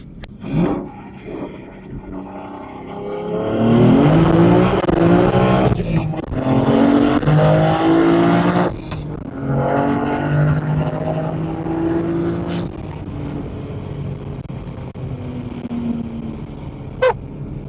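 A BMW F80 M3 pulls hard through the gears, its engine note climbing loudly in repeated rising sweeps with brief drops at the shifts, and a touch of tire slip in second gear.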